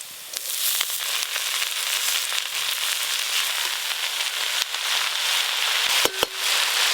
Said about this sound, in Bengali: পেঁয়াজটা খুব লাল করে ভেজে নিয়েছি, এবার শাকগুলো দিয়ে দেবো।